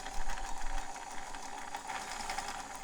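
A White 510 flip-flop sewing machine runs a straight stitch: a steady, close motor hum with a fast rhythmic needle clatter continues throughout, loud and unbroken.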